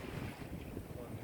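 Freshening wind, around 15 knots, roars steadily across the microphone aboard a sailboat at sea, a dense, continuous rush with no talk.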